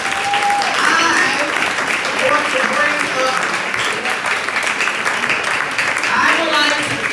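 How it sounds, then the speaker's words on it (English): Steady, dense applause fills a symposium hall in Miami as the audience claps for itself, sustained and loud throughout with voices mixed in. "y'all clap for yourselves, man, for showing up"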